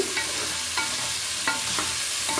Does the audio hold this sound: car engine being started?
no